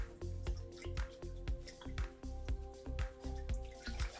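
Water drips and splashes in a steady, regular rhythm while a wig is rinsed, with soft squishing between the drops, close and fairly quiet.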